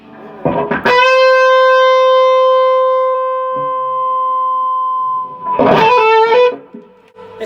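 A Gibson ES-335 semi-hollow electric guitar is picked hard, rings out as a sustained distorted note that slowly fades and swells into feedback, then more strummed notes follow, loud and close with no voices.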